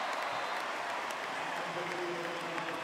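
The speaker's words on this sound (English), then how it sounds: "home crowd has reached full voice" A home stadium crowd at a college football game roars and applauds in a dense, continuous wash of cheering, with a voice talking faintly underneath.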